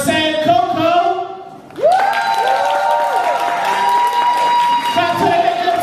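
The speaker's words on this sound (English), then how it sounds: "Clap it up next for Sancoco." A crowd applauds and cheers at a women's poetry slam at MOCA, with an opening burst of clapping followed by sustained whoops and cheering that carry through to the end.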